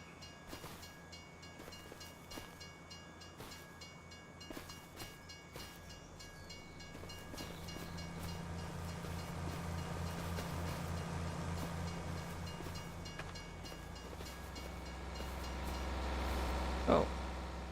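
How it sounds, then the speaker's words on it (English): A train rolls past in the farming video game Farming Simulator 25, a sustained low rumble and rail hum that grows louder and swells near the end, with a brief horn-like tone and a steady background drone. "I get to hear train noises all the time."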